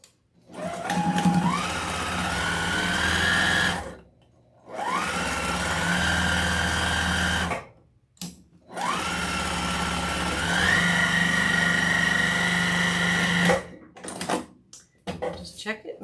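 A sewing machine stitches donkey ear pieces together in three long runs, its motor whirring steadily and rising in pitch as each run speeds up, with short pauses between them.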